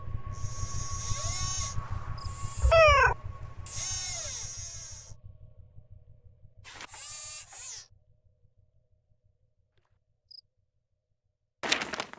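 A robotic cat named Suki in a Nancy Drew adventure game gives several short synthetic, warbling meows over a low mechanical hum, with brief pauses between calls and one final chirp after a near-silent gap.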